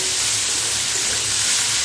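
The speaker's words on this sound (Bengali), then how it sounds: "এবারে সব কিছু মিশিয়ে একটুখানি ভালো করে ভেজে নিতে হবে।" Potato and carrot with salt and turmeric fry in a pan for a vegetarian dish, giving a loud, dense, continuous sizzle with stirring underneath.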